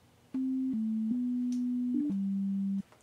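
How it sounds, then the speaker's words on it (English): A pure, smooth sine-wave synthesizer tone in Reason 6.5 plays a handful of sustained low notes in sequence, steady and clean, then stops abruptly. "it's a sine wave"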